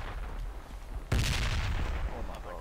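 A grenade blast in the Project Reality military game, one sudden loud boom partway through that rolls out into a sustained rumble over low background battle noise.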